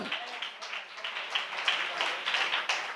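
Church congregation clapping hands in steady rhythmic unison during a Tamil worship service, a dense crisp patter of many hands throughout, with voices faintly mixed in.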